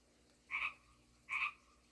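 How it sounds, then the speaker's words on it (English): Two separate frog croaks, the second following the first after a pause of under a second, each short and fairly close, with a quiet background and no voices. "Let's ask if the frogs approve."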